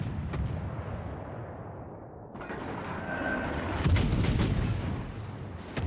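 Naval gunfire shelling the battleship Scharnhorst in World of Warships: rumbling broadband booms and a steady roar of artillery, swelling louder toward the end with sharp high crackling bursts, no voices.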